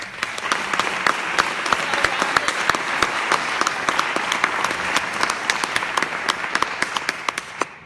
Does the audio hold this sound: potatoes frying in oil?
no